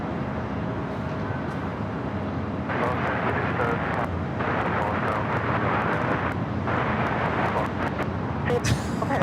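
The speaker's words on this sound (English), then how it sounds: "That flight taking off there on the south side, heading to Orlando, Florida." A United Airlines Boeing 737 MAX 9 takes off from the south side at Los Angeles airport, its engine roar building into a broad, sustained rumble at a distance, with traffic noise and a voice over it.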